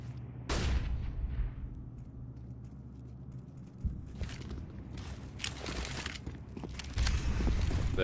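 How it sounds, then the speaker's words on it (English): Smoke grenades are thrown during a Counter-Strike match at the PGL Major Kraków 2017, with broadband pops and hissing bursts over steady in-game rumble and scattered gunfire-like cracks, growing denser toward the end. "There you go, the smoke grenades."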